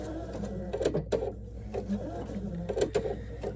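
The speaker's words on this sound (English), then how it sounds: "I'm gonna stop here, back stitch," A sewing machine back stitching fabric for a heart garland runs in short, loud mechanical bursts with a steady low hum and brief pauses between runs, close up.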